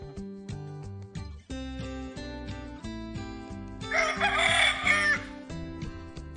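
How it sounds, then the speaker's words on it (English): A rooster crows once, loud and close, over a plinking children's music backing track. "A rooster makes that sound."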